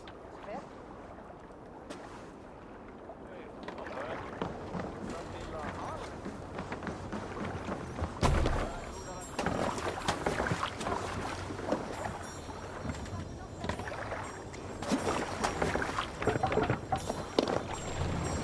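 A Viking longship rows through waves in Assassin's Creed Valhalla, with oar strokes, splashing water and wind in a steady rhythmic churn, while voices speak over it throughout.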